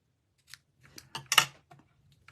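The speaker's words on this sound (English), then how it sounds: "bring in my ribbon scissors and trim it up" Ribbon scissors trim a length of ribbon in a few quick, quiet snips, with light handling rustle between cuts, close and isolated.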